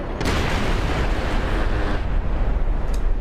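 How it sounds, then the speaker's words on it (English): Sustained 20mm Vulcan cannon fire with high-explosive incendiary non-tracer rounds in DCS World, a dense, continuous roar of rapid impacts and blasts that runs loud for about three seconds without a break. "Vulcan 20mm high explosive incendiary non-tracer."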